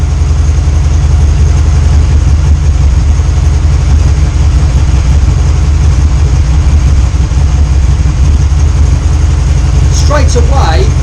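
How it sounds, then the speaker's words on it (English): A motorcycle engine idles with a loud, steady low rumble that holds unbroken from start to finish, and a few brief high chirps come near the end. "I'm just going to start the bike"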